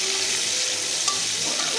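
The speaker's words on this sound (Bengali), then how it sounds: "পেঁয়াজটা হয়ে গেল, পেঁয়াজটা একটু নাড়াচাড়া দিব।" Onions with bay leaf frying in oil, a steady close sizzle with light stirring from a spatula.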